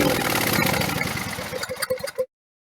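A 27 hp Briggs & Stratton engine from a Skag mower, mounted on a homemade stand with starting fluid sprayed into the carburetor, catches and runs roughly for about two seconds, sputtering in uneven pops before cutting out to silence.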